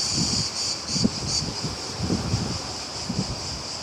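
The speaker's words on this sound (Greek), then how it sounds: "Κουνάει και την κάμερα ο αέρας" Gusty outdoor wind buffets the microphone in low irregular rumbles and thumps, while a steady high insect-like chirring continues in the background without any voices.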